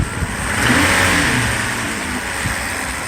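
A Mercedes S600 engine under repair for mass air flow faults rises in a strong rev and holds a steady, loud roar before easing slightly, close by with no talk.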